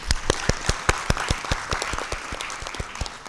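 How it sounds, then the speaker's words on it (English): A crowd applauds with loud, rapid, rhythmic clapping that holds steady for a few seconds, close by and without talk. "join me in giving them a round of applause"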